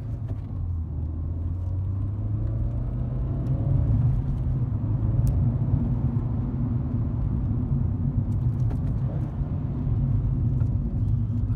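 A 2008 Seat Ibiza 1.4 Formula Sport hatchback's engine drones steadily from inside the cabin on a twisty road, its low rumble rising and falling slightly as it drives along, with rev-matched downshifts.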